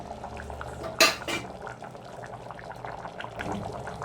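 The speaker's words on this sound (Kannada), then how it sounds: "ನೋಡಿ ಕುದೀತಾ ಇದೆ." Water for egg biryani bubbles in a pressure cooker, a soft steady seething under a sharp metallic clank of utensils near the start and lighter clinks afterward.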